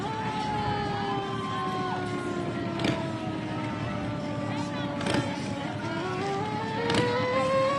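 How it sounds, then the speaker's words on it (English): A fire truck siren at a Christmas parade wails with rising and falling tones over steady street crowd noise and engine rumble, with people talking nearby throughout. "I hear another fire truck"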